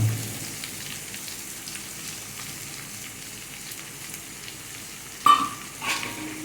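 Boiled white chickpeas sauté with a roasted spice powder in a pan, a soft, even sizzle running steadily throughout, with a couple of sharper clinks of a spoon against the pan near the end.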